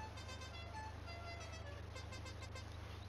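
A car horn honks in Farming Simulator 19, giving a steady, harmonic tone over a constant low engine drone, loud and close throughout.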